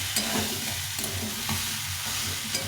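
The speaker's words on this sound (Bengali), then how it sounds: "ভালো করে একটু কষিয়ে নিতে হবে" Soya chunks and vegetables with garlic and onion sautéed in a pan, a steady soft sizzle under repeated scraping stirs, close and continuous without talk.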